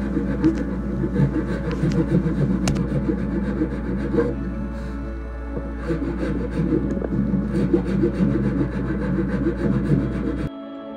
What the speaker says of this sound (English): It took me roughly four hours to cut this hard maple out by hand